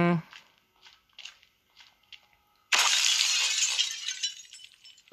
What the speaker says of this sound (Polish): Rozbijamy szybę, zobaczymy co jest w środku.